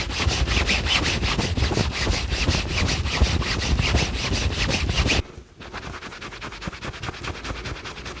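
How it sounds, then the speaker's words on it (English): A polishing cloth rubbed briskly on the toe of a Red Wing leather boot makes a steady, fast, rhythmic swishing that is close and loud. It breaks off briefly and then carries on more softly, with no talking. "I'm using two hands and the polishing cloth to get the toe nice and shiny"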